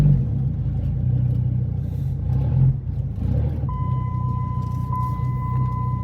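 Dodge Ram SRT-10 pickup with a Viper V10 engine, driving with its exhaust cutouts open, gives a steady deep rumble heard from inside the cab, and a constant chime tone joins partway through.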